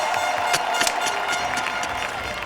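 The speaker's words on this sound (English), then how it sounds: "Just listen to the crowd getting crazy right now." A large crowd at the BMX park final of FISE World Montpellier 2015 roars and claps continuously, a dense, loud wall of cheering with scattered sharper claps and shouts, steady from start to end.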